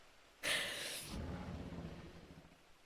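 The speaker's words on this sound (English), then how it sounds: "Maybe we can take Penny's soothing rain sounds." Rain in Final Fantasy XIV: Endwalker, a soft steady patter that begins with a sudden loud noise burst and then settles into a fainter, continuous hiss.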